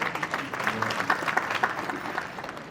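An auditorium audience claps during an opening speech at a company event, a moderate, somewhat thin and uneven patter of applause that holds for under three seconds before easing off.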